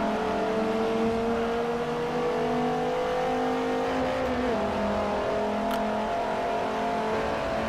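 Several Dodge Viper race cars in Forza Motorsport 4 roar together in a steady, loud engine drone, pitch climbing and shifting as they rev through a two-lap reverse course, with no talk over them.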